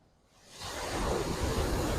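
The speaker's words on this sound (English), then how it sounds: "Waves are big today." Big ocean waves break where surfers ride: a faint hiss swells into a loud, steady roar of surf as the wave crashes.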